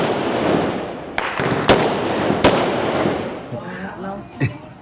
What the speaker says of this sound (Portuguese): Tá acostumado com os barulhinhos dos fogos.